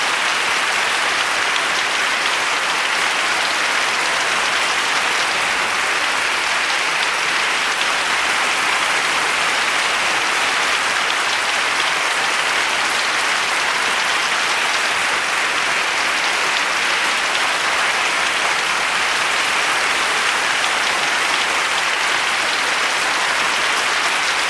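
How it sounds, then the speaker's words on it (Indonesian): Continuous, dense audience applause, an even hiss-like wash of many hands clapping that holds steady throughout without a break or voices. "Hadirin berikan tepuk tangan yang meriah atas pemahaman lulusnya."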